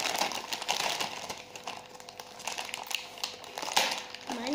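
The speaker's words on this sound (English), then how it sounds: "Let's open our packets." Plastic packets of knitting sand are torn open and handled up close, a busy crinkling and rustling with sharp crackles and a few taps, under faint voices.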